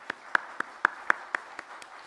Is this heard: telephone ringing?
no